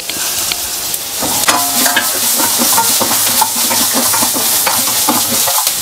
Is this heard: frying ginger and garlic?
yes